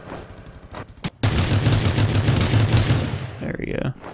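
Loud, rapid gunfire in a video game, a dense sustained burst of shots lasting a few seconds after a couple of isolated pops, heard up close with some speech around it.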